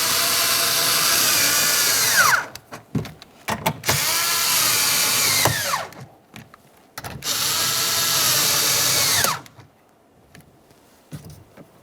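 A power tool drives and snugs the three mounting bolts of a 2007-2017 Jeep Patriot front interior door handle panel, in three long whirring runs that end in falling pitch, with short ratcheting clicks between them.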